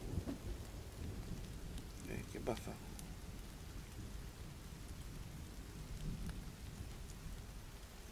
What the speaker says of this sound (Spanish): si llueve como ahora que está lloviendo